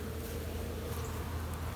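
Bees hum steadily during a hive removal from a wall, a soft, continuous buzz of many insects with no pauses.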